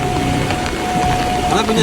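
Heavy rain pours steadily during floods in Tamil Nadu, a dense close hiss on surfaces with a faint low rumble and some voices underneath.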